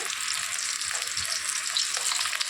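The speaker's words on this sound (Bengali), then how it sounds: "এবারে প্রথমে মাছ দুটোকে ভেজে নিচ্ছি।" Two fish frying in hot oil for a mango fish curry, a dense, even crackling sizzle close by, continuous and without any talk.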